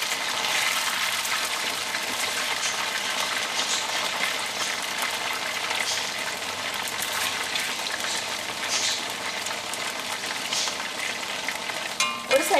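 Chilli beef pieces fry in hot oil, with a loud continuous close sizzle and crackle throughout and a few clattering knocks near the end as the pieces are turned.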